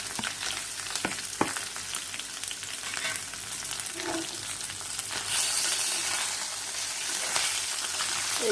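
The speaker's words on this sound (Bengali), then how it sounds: "মধ্যখানে তেলে পাঁচ ফোড়নটা দিয়ে দিলাম।" Panch phoron spices sizzle and crackle in hot oil in a pan with fish and potatoes, a steady, close frying hiss that grows a little louder toward the end.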